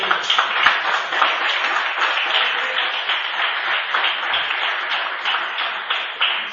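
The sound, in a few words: church congregation applauding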